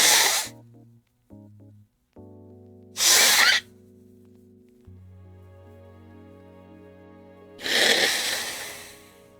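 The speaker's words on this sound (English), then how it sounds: "For the fourth sneeze that happened live on stream." Three sharp, explosive sneezes burst out at intervals, close and loud, separated by stretches of quiet and a steady electronic drone.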